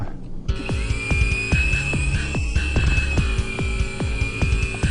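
An Avatar Z008 four-channel RC helicopter flies nearby with a loud, steady high-pitched motor whine and a rhythmic rotor thump repeating throughout, with no talking.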